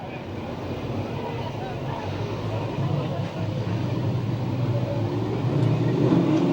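Sprint car and midget racing engines at a dirt oval in Santa Maria, California, rev and build toward a restart. The dense engine roar grows louder toward the end beneath an announcer's commentary.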